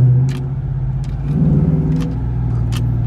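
A car engine, heard through an open window at night, hums low and steady nearby, swelling briefly as it revs, with a few faint sharp clicks over the rumble.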